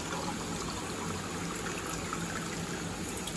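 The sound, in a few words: cold water poured into a mixing container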